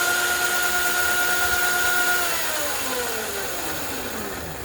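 Hiboy DK1 kids' electric dirt bike motor whining as it accelerates, a thin high electric tone sliding in pitch and gradually fading over a few seconds, moderately loud with no talking.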